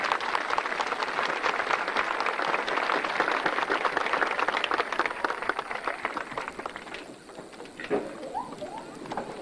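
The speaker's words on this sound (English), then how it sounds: "Please give them a big round of applause." Applause from a large crowd at a 1996 high school graduation ceremony, a dense, steady patter of many hands heard from a distance that gradually thins and fades toward the end.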